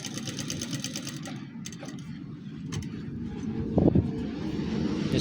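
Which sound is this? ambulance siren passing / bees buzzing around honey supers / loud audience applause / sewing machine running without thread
sewing machine running without thread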